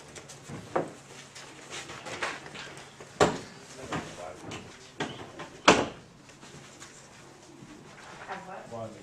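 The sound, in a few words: door being closed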